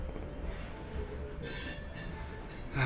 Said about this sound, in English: I'm going to mute you guys for a sec while this train goes.